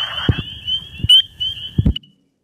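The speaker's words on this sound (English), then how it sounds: "Here in the background, a bunch of wood frogs. In the foreground, spring peepers calling." Wood frogs and spring peepers call at a spring wetland: a steady high peeper trill runs throughout, broken by several low clucking wood frog croaks, fairly close and loud with no talk.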